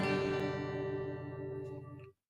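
One guitar chord rings out clearly and sustains for about two seconds before being cut off, its notes sounding slightly sour together.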